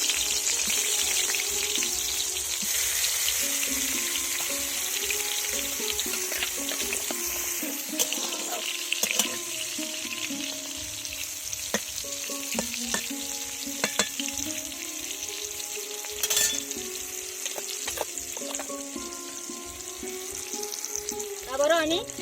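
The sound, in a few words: frying vegetables in oil in a pan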